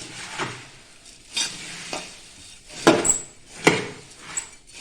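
Kolhapuri bhadang (puffed rice) being stirred with powdered sugar and salt in a pan, with several distinct scraping and clinking strokes of a spoon against the vessel, spaced irregularly and close up.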